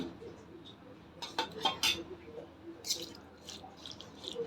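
A spoon adds curd (yogurt) to a bowl of koshimbir salad, giving a few soft clinks and wet scrapes of metal on the bowl, close and moderately quiet, clustered in a short burst with lighter taps after.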